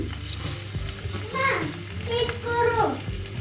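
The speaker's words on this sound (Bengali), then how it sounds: "হালকা একটু লবণ হলুদ মরিচ দিয়ে ভেজে নিচ্ছি" Fish seasoned with salt, turmeric and chili frying in hot oil, giving a steady close sizzle that runs throughout, mixed with voices talking nearby.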